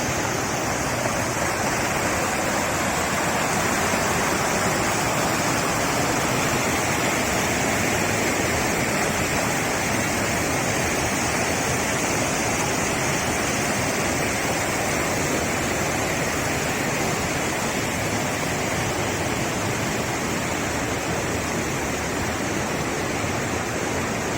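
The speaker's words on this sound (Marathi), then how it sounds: "हे असे खळखळ वाहणारे पाणी आणि निसर्गरम्य वातावरणात असणाऱ्या या ब्रिटिशकालीन बंधाऱ्याला" River water rushes steadily over an old British-era weir on the Yerala river, a loud, constant roar of falling water that holds unbroken throughout, with no voices.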